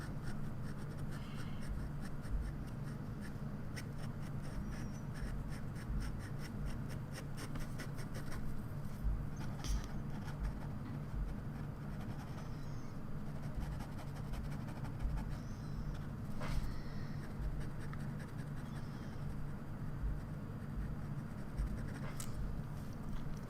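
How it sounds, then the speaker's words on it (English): An ultra extra fine fountain pen nib sketches on paper, giving soft continuous scratchy strokes with small ticks, close and quiet over a low steady background hum. "I also really enjoy this ultra extra fine nib, even if it's like super fine and leaves really fine marks."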